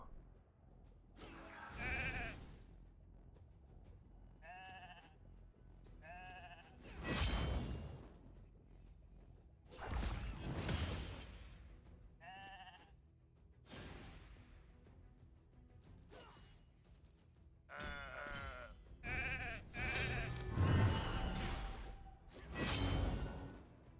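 Several short, nasal sheep bleats repeat at intervals among loud whooshing swishes and game-like effects in Raid: Shadow Legends, a synthetic-sounding mix.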